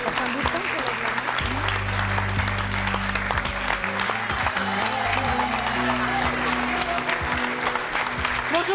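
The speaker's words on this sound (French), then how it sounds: "Je vous demande d'applaudir Cindy" Studio audience applause on a French talk show, loud continuous clapping throughout, with low tonal music and faint voices running underneath.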